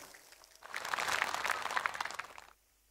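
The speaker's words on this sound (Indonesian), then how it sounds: "Tepuk tangan untuk semua panitia." Applause from a mosque congregation at a Madurese-language religious sermon, a dense burst of clapping swelling up quickly, holding steady for about two seconds, then cutting off sharply.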